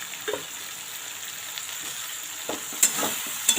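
Half-boiled beans, carrots and peas are stirred in a frying pan, giving a faint, steady sizzle with a few soft scrapes and clinks.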